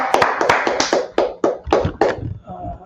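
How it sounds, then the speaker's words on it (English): A small group claps in a loose, uneven burst of about a dozen sharp, close claps at a street gathering in Harlem, tapering off into faint background murmur. "Clap it up."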